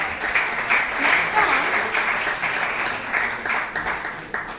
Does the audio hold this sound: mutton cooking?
no